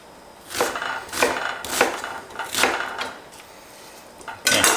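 A knife chops bell peppers on a cutting board, giving four evenly spaced, crisp, near strikes followed by a sharper fifth cut at the end, with no talking.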